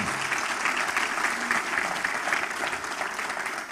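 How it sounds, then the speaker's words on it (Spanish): Church congregation applauding after a prayer at a Sunday service, a dense, steady wash of many hands clapping together, loud and continuous throughout with no break. "Le damos un aplauso al Señor."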